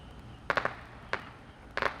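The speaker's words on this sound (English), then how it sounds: "Some fireworks going off." Distant fireworks popping on a Bakersfield street at night, three quick clusters of sharp cracks over a quiet background.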